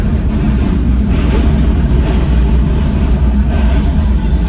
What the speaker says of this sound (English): We got the train going above us.